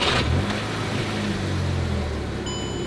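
A Volkswagen Golf GTI with a DSG gearbox, 115,000 miles and an engine fault cranks and fires up, settling into a steady low engine rumble close by, with a faint high electronic tone near the end.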